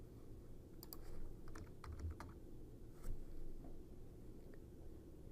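Quiet typing on a computer keyboard, a few scattered key clicks in short bursts over a low background hum, with no voices.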